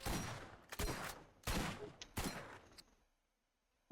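Gunfire from a newly acquired weapon in the video game Borderlands rattles out in three loud, rapid bursts with short gaps between them, then fades to quiet.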